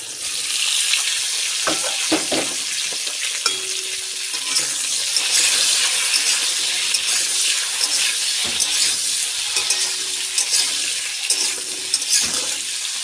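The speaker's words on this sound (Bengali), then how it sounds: "এবার রান্না বসাবো, সেই জন্য ওই একই তেলে কালো জিরে আর কাঁচা লঙ্কা দিয়ে তারপর রাখা আলুগুলো দিয়ে দেব।" Potatoes sizzle and fry in hot oil with nigella seeds and green chilies, a steady crackling hiss broken by occasional stirring scrapes, close and with no talking.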